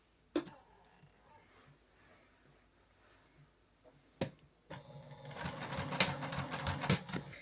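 A sewing machine whirs into a fast run of stitching after some scattered clicks and knocks, rattling loudly near the end.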